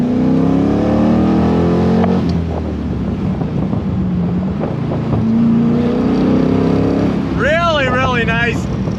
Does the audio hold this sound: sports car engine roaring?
yes